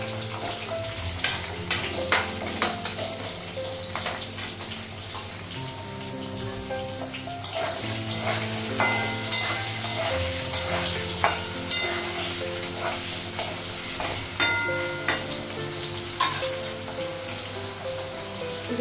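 Potatoes fry in a pan with a steady sizzle, broken by repeated scraping and clinking as they are stirred through the hot oil.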